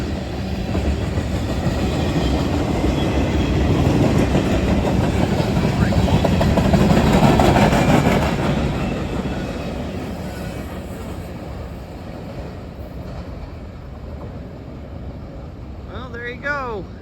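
Freight train passing eastbound through Ashland, Kentucky, a loud steady rumble with rail clatter that swells at its peak, then eases off as the cars roll by, with a faint voice near the end.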